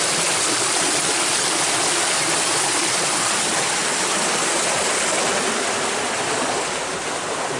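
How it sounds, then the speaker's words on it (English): Water gushes through an acequia irrigation channel, a loud, close, steady broadband rush that stays constant throughout with no voices. "Hear the water gushing through here."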